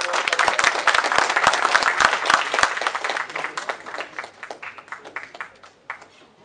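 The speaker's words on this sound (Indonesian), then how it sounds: "Kita beri tepuk tangan yang meriah" Lively applause from a seminar audience greeting three speakers, loud sharp claps at first that thin out and fade toward the end.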